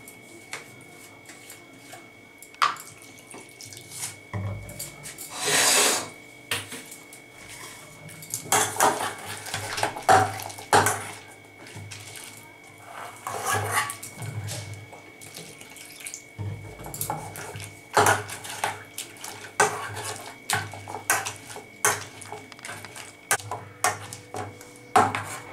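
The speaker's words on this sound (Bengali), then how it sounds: "এইভাবে অল্প অল্প করে আমাকে জল দিতে হবে ম্যাশ করার সময়" Wood apple pulp being mashed with a masher in a pot, small amounts of water added for Bengali-style chutney: intermittent scraping and knocking of metal against the vessel with brief splashes, close and fairly quiet.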